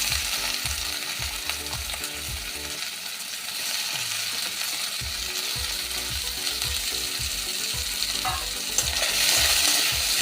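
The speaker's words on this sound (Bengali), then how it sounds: "পেঁয়াজটা এবার আমি লাল লাল করে ভেজে নেব।" Onions and garlic fry in oil while being stirred, giving a loud continuous sizzle with regular scraping strokes of a spoon against the pan, no voices.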